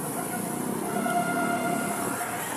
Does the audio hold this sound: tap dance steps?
no